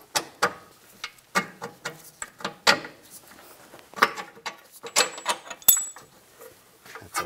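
A bolt being worked out of a rear hub on a Cadillac SRX with a hand tool, a series of close metallic clicks and ratcheting knocks with small clanks, no voices.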